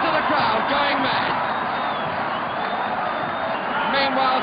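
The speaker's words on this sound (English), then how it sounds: "Listen to the crowd going mad." At a 1971 Leeds United versus West Bromwich Albion football match, a huge stadium crowd roars and bays after a disputed goal, a dense, loud, sustained wall of shouting with swells of whoops and cheers.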